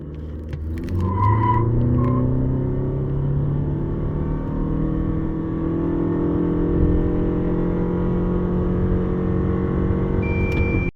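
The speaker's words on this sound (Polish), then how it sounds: "jak słyszeliście, auto traci trakcję" A 2023 Lexus LM engine revs hard and steadily under heavy acceleration, with a brief squeal of tires losing traction early on; loud and close, no voices.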